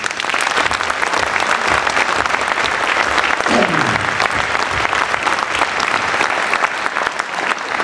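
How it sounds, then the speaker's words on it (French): Loud, sustained audience applause at a municipal gathering honouring firefighters and young firefighters, dense clapping throughout with a brief voice or sound sweeping through midway. "Je pense que pompiers et jeunes pompiers méritent nos applaudissements"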